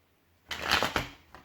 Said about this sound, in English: I always have trouble shuffling these cards.